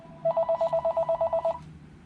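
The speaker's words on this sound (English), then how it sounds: "Sorry about the phone call." A telephone rings indoors in one quick trilling burst of rapid pulses lasting just over a second, close and clear, with nobody speaking.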